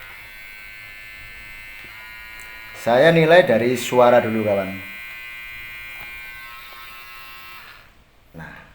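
A Kemei 2713 or Wmark electric hair trimmer hums steadily at its lowest speed, around 5,500 to 7,000 RPM, close to the mic; someone talks over the buzz midway before the motor cuts off near the end.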